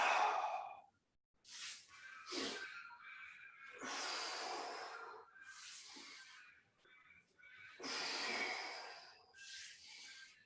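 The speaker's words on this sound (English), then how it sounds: "breathing in, breathing out, breathing in, breathing out" Breath is drawn in and pushed out steadily during a Pilates resistance band mat exercise, each slow breath close and audible, with short quiet gaps between them.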